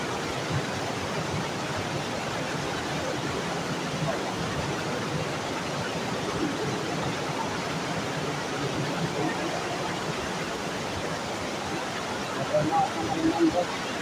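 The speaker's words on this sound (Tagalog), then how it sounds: "Halos hindi mo, hindi mo marinig ang usapan ng mga tao sa sobrang lakas ng bulosok ng tubig" Water released from dam gates at Wawa Dam rushes in a loud, continuous roar of broadband noise that never lets up, with voices faintly buried underneath.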